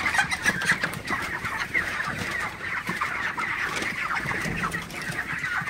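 Broiler chickens cluck and chatter continuously inside a poultry shed on a cold night, a dense, close flock murmur with overlapping soft calls and no voices.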